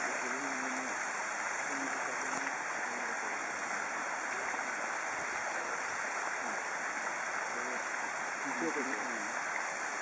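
Steady rushing of a river stream at Sumatakyo gorge in Japan, a continuous broadband water flow throughout, with a voice talking faintly over it at moments.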